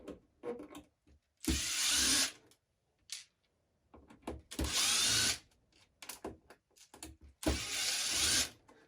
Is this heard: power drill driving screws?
yes